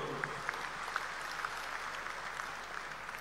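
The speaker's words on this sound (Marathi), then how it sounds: "एकदा जोरात टाळ्या वाजवून आपण त्यांचं स्वागत करू" An audience at a political meeting claps loudly to welcome a guest in a hall, dense steady applause from a crowd lasting the whole few seconds.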